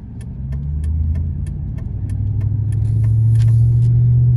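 A 2005 Dodge Ram 1500 Daytona quad cab 4x4 with a 5.7 liter Hemi V8 and automatic transmission drives along, its deep engine rumble building steadily louder as it pulls ahead, heard close and alone.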